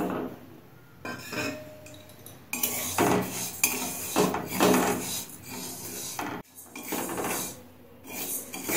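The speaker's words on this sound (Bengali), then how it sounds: "মুগ ডাল রান্না করার জন্য আমি গ্যাসে কড়া বসিয়ে দিয়েছি, কড়া গরম হয়ে গেছে। প্রথমে ডালটা ভেজে নেব।" Moong dal being dry-fried and stirred in a hot wok (kadai) on a gas stove, with a utensil scraping and clinking against the metal pan in a steady close-up rhythm.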